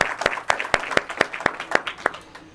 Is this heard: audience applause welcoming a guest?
yes